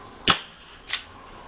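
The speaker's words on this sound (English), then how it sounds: "Going to fire all 6 rounds." Two sharp, close pops about two-thirds of a second apart, with no talking, from a gold 2.5-inch ASG Dan Wesson CO2 airsoft revolver firing BBs in single action on a fresh CO2 cartridge.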